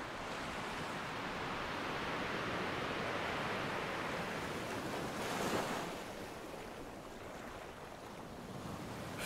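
Ocean waves and surf roll in a continuous broad wash of noise with a gentle swell, heard alone with no voices, wind brushing faintly over the water.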